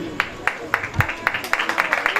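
A church congregation claps loudly for a brother at a prayer gathering, steady sharp claps speeding up into a quick rhythm, with a voice speaking over them.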